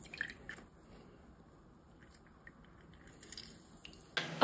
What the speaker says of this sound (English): by squeezing out these lemons until I reach 1/4